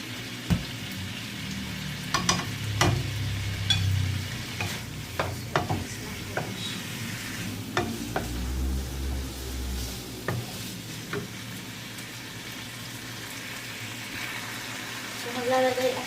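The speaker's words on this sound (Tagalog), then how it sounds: "So, maglalagay ako ng kaunting oyster sauce. So, i-mix natin." Seafood being stir-fried in a pan with oyster sauce, giving a steady sizzle with scraping stirs and clinks at intervals, close by, and someone talking over parts of it.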